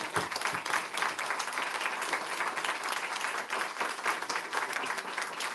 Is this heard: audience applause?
yes